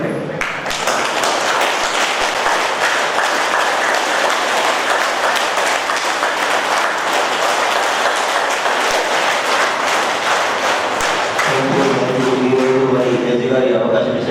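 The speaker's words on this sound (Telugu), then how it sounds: "చప్పట్లు కొట్టండి." An audience at an International Yoga Day gathering at a district court claps loudly and continuously, dense applause throughout, then a brief tonal voice or music enters near the end.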